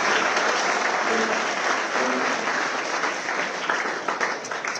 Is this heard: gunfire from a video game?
no